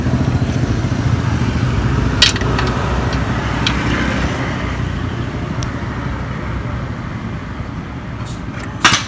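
Honda Beat scooter engine, which has a sputtering fault and weak fuel pump spray, started and idling in a workshop. A steady, close motor drone is broken by a few sharp clicks and knocks.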